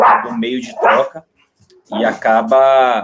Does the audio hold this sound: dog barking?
yes